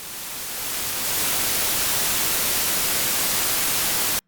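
Steady pink noise from a synthesizer in Reaper fades in over the first second, then holds as a loud, even hiss before cutting off abruptly at the end.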